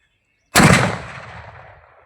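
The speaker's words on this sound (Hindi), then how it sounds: "भाई साहब क्या ही धमाका हुआ है" A single sharp, loud firecracker bang bursts out after a half second of silence, then a rumbling tail slowly fades away, during Uttarayan kite festival celebrations.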